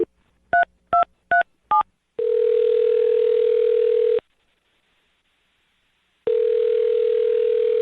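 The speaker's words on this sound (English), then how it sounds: "dial her phone number right now" A telephone call being placed: four quick keypad beeps, then a long, steady ringing tone, a silent pause and a second ringing tone, clean and close, with no voices.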